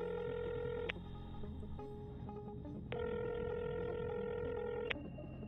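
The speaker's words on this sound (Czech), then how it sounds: "Ze stojánku vezmu mobil a vytočím číslo svého nadřízeného." A mobile phone dials a number with a steady run of electronic tones broken by short pauses, clear and close, with a faint low hum underneath and no voices.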